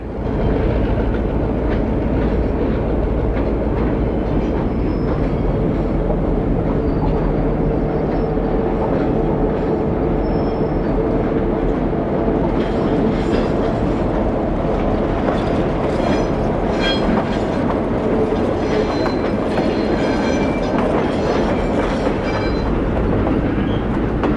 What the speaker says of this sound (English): The northbound Cincy approaches the junction and prepares to cross over to the C&O route.